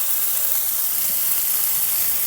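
Chopped tomatoes and capsicum frying in a pan, a steady close sizzle with a broad hiss that holds even throughout, with no talking.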